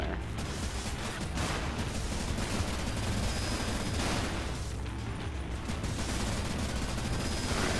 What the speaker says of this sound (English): Alright, how's this gun working?